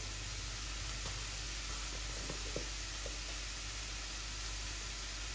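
Bitter gourd and potato pieces fry together in oil with turmeric, salt and coriander, giving a steady, even sizzle with a few soft stirring taps, close and alone.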